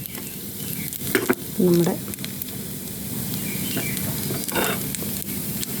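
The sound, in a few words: frying spices for tempering a Kerala jackfruit curry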